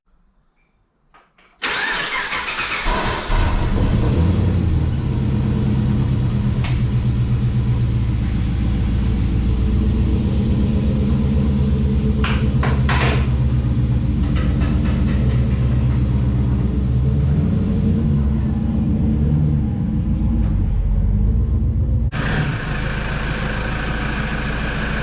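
A Toyota Hilux N70's engine cranks and starts, then idles with a steady mid-pitched rumble as the truck is driven slowly out of a shed, loud and close, before cutting off near the end.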